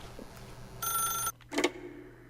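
A telephone rings in the video game The Stanley Parable, a single bright burst of ringing followed by a short clatter, over a faint low hum.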